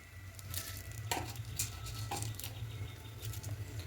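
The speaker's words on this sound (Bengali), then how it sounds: "এবার তেলের মধ্যে ফোড়নে দেব 5 ফোড়ন" Bengali five-spice seeds dropped into hot mustard oil crackle and spit with an uneven patter of sharp pops and hissing bursts, up close and fairly quiet, with a low hum running underneath.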